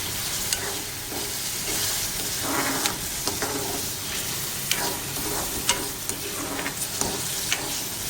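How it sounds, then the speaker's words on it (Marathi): Chopped tomatoes fry in a pan for mushroom masala, giving a continuous loud sizzle with bursts of hissing and crackle as the mixture is stirred, alone without voices. "आतां टोमॅटो कचर घालता"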